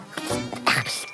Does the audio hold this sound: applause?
no